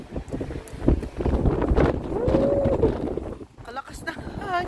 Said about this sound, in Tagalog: Kalakas na hangin.